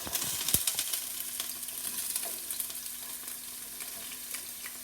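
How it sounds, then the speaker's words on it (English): Carrots and onions searing in a hot pan, a continuous bright sizzle with a sharp clatter near the start and scattered stirring ticks, close and steady, no speech. "Oh, it's already searing, so let me get that on a lower temp."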